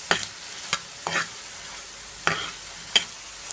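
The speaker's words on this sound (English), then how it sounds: "I'm just gonna allow it to fry, guys, for at least 2 minutes" Corned beef fritter mixture frying in a pan, a quiet sizzle under a series of distinct scraping stirs and clacks of a spoon, about five strokes spaced irregularly, close and fairly crisp.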